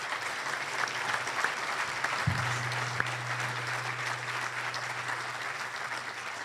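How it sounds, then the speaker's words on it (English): Audience at a Rotary luncheon applauds first-year award recipients, a steady wash of many hands clapping that runs throughout at an even, moderate level, with a faint low hum underneath. "So a round of applause for these first-year award."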